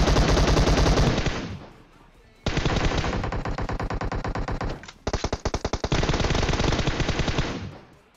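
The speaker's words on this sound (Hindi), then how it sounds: "मेरे टीममेट पे फायरिंग दे रहे थे" Rapid automatic gunfire from PUBG Mobile game combat rings out in loud, close bursts, with a short pause between the first and second volleys and a choppy break in the middle of the final stretch of shots.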